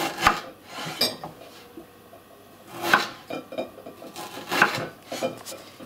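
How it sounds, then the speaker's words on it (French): A knife cutting turnips into fries on a cutting board, with three sharp, separated chopping knocks spaced a couple of seconds apart and softer scraping and handling noises between them. "ensuite on le coupe dans le sens de l'épaisseur en 3"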